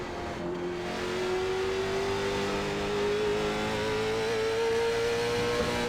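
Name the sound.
late model stock car engine in the video game iRacing at South Boston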